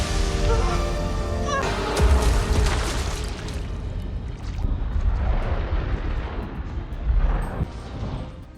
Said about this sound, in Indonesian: Begitu para monster berkumpul di depan mesin, tabung itu meledak.